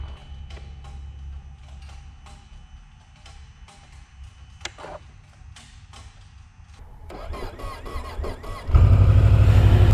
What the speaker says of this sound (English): I'm not sure if these bikes just crank slow or if this battery's getting a little low